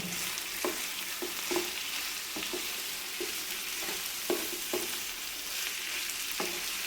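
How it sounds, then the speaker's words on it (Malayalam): Chopped onions and shallots sauté in a pan for a pomfret fish dish, giving a steady broadband sizzle with about a dozen brief scraping stir strokes spread irregularly across it. No one speaks. "സവോള കൂടെ ചേർത്ത് ഇനി പിന്നെയും വഴട്ടണം നല്ലോട്ട് വഴറ്റിയെടുക്കുക"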